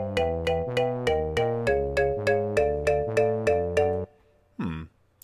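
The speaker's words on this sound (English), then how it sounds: "Now I can have a listen to what that sounds like with a tuba playing along with the marimba." Tuba and marimba parts played back together in music notation software, a steady run of about a dozen evenly spaced struck marimba notes over deep sustained tuba tones, ending abruptly, then one brief separate sliding note.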